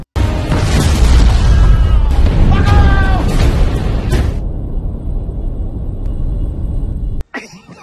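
A heavy, booming landmine explosion with rumbling low end that rolls on for several seconds, a voice briefly audible over it, then cutting off to quiet.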